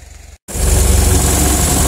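A logging skidder's engine rumbles loud and steady at close range after a brief drop to silence, with a deep throbbing idle and vibration.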